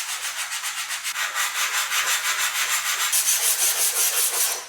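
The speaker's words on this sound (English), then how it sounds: "I switched to a sheet of 400 grit because I was having a hard time with this piece here." Hand sanding with a sheet of 400 grit sandpaper on a rough metal fuel pump part from a 1962 AMC Rambler: rapid, even back-and-forth strokes, close and steady, with no voices.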